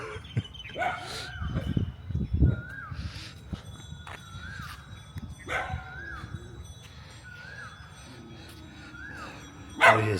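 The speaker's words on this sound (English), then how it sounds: "the dogs are getting more excited" Excited dogs bark around a floating village house in Kampong Chhnang, Cambodia, with repeated sharp barks and yips at intervals, fairly close, alongside faint rustling and a few bird calls.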